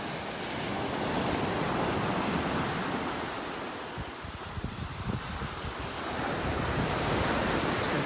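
Ocean surf rolls steadily onto the beach at North Naples, Florida, a continuous broadband wash with swelling and easing waves and some wind rumble against the microphone, no voices.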